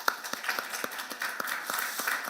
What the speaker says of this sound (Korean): 박수를 우리 영광 돌립시다.